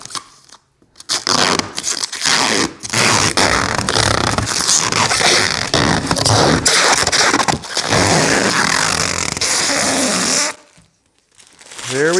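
Plastic protective film peeled off a WeCreat Vision 20-watt laser engraver, a long continuous crackling, crinkling rip lasting about ten seconds, close and loud, ending in a brief pause.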